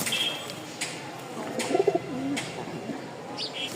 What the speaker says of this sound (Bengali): মার্শাল্লাহ একজোড়া সাদা শ্বেত কবুতর